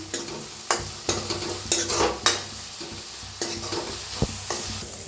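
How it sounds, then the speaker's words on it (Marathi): Onions frying in a pan with curry leaves and green chilies, a steady sizzle broken by repeated sharp scraping stirs of a spoon against the pan, close and alone without talk. "आता ह्याच्यात टाकूया कढीपत्ता हिरव्या मिरच्या छान असं भाजून घेऊया कांद्याला मस्त असं"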